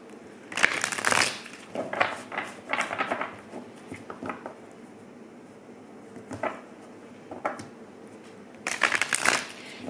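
Tarot cards being shuffled and handled up close, in several short crisp bursts of riffling and sliding separated by quieter pauses, with no talking.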